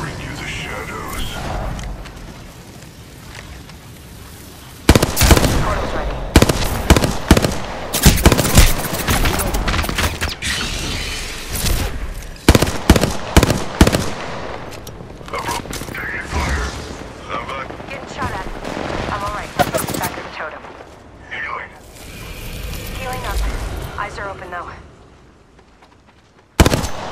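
Gunfire rattles in Apex Legends: loud, rapid bursts of shots with cracking impacts come in clusters, then thin out. A player keeps talking throughout.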